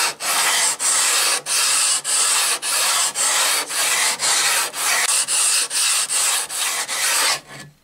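A chisel sharpening stone is flattened by rubbing, giving a rhythmic series of about a dozen harsh, gritty back-and-forth scrapes at close range, each stroke separated by a short pause.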